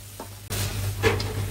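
Spice paste frying in hot oil for a raw-mango fish curry, a steady close sizzle with brief stirring scrapes over a low constant hum.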